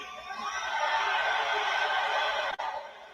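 Arena crowd in Arizona cheering loudly for wrestler Cody at a WWE SmackDown event, a dense continuous roar of many voices with one brief dip near the end.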